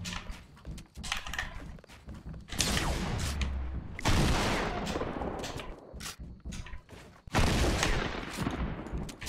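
Double barrel shotgun blasts in Fortnite Battle Royale, three or four heavy booming shots spaced a few seconds apart, each with a long decaying tail, interspersed with quieter mechanical clicks and reload sounds.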